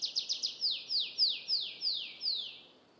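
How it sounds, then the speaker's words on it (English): A bird outdoors sings a series of high, descending chirps, about a dozen notes that start rapid and slow into evenly spaced slurred whistles, clear against a quiet background. "With the birds chirping and smoothie machines blending"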